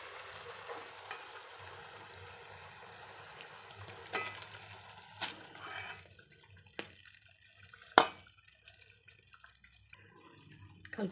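Chicken pieces frying in a pan for a restaurant-style red chicken curry, a steady close sizzle with scattered sharp pops and stirring clatters, no talking.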